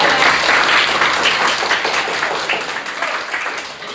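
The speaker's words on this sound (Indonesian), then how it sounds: "tepuk tangan untuk kalian." Students clapping in a classroom, a dense burst of applause that starts strong and slowly thins out over several seconds.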